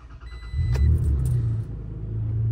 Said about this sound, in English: So let's turn the truck on.